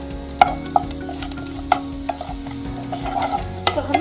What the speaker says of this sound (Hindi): तो हमें इसको ज़्यादा पकाना नहीं है, हल्का सा ही सौटे करना है।